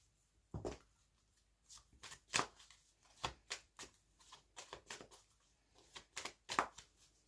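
A deck of oracle cards is shuffled by hand in a quiet room, with soft, irregular riffling and slapping bursts that repeat over several seconds, faint and close.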